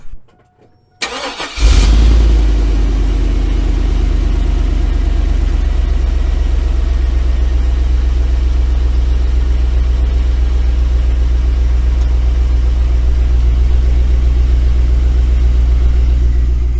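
After a moment of near silence, a 2001 GMC Yukon engine with a cherry bomb exhaust cranks and catches, then settles into a steady, loud idle with a deep rumbling exhaust.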